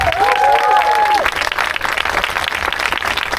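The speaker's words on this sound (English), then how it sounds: "So let's give a round of applause to our great panelists." Audience applause for panelists at a climate week panel in San Diego, dense and loud clapping from a crowd throughout, with voices and a brief cheer over the start.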